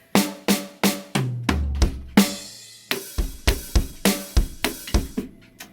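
A drum kit plays a busy fill: rapid, evenly spaced hits with snare and tom strikes, then crashing cymbals and kick accents, loud and close.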